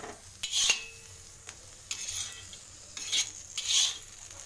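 Cooked okra is scooped from a pan into a bowl with a metal spoon, making a few short bursts of scraping and clinking against cookware, close by, separated by quiet pauses.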